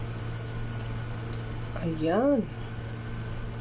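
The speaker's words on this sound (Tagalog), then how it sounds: "At kumukulo-kulo po siya." Tofu soup boiling in a pot on a stove, a steady low bubbling hum beneath a person speaking briefly.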